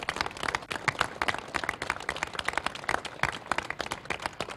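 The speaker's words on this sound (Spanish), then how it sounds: "para quien pido un gran aplauso" An audience at a fire engine handover ceremony for the firefighters of the Atacama region in Chile gives sustained applause: dense, crackling clapping from many hands that runs steadily throughout, fairly loud and without speech.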